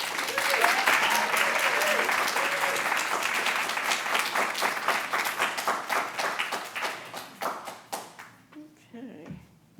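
An audience at a poetry reading applauds warmly for nearly ten seconds, a full crowd of clapping hands that thins into scattered individual claps before a voice begins.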